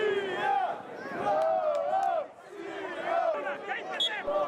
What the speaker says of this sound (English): And the fans once again cheering and hoping for the second goal